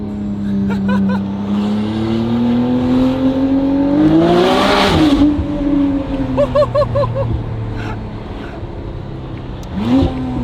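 A McLaren Artura fitted with a Valvetronic Designs free flow race exhaust, revving loudly up close with a sharp rise and fall in pitch and a rasping burst midway, then settling into a steady rumble before another quick blip.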